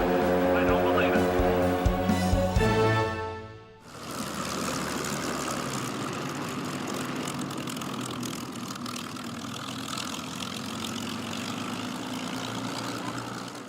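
A P-51 Mustang warbird's propeller engine roars loudly, dips briefly, then settles into a steady, continuous drone; no speech is evident.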